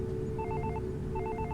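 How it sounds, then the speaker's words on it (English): Mobile phone ringtone playing as a sound effect: two short bursts of a rapid warbling electronic trill, each a quick series of alternating beeps, over a low steady hum. "the shrill sound of my ringtone playing echoes in the hall"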